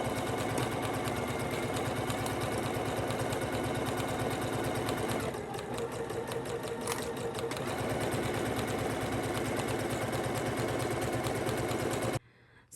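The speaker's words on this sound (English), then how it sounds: "Take this to your machine and sew it at 5/8 on each side" Close and loud, a sewing machine runs a 5/8 inch seam along each side of a bodice, humming steadily with a fast stitch rhythm, easing briefly in the middle before stopping abruptly at the end.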